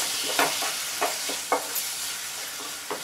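Tomato paste stirred into frying masala for dum aloo, a steady sizzle with several distinct spoon scrapes and clinks against the pan, fairly close and with no voices.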